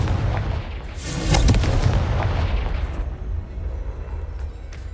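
A Confringo blasting spell detonates in Hogwarts Legacy, a loud booming burst that swells around the one-second mark and rolls off into a rumbling tail, with game ambience continuing underneath.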